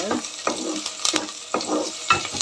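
Green chillies fry and sizzle in a pan while a spoon stirs them, giving repeated scraping strokes over a continuous crackle, close and fairly loud with no talking.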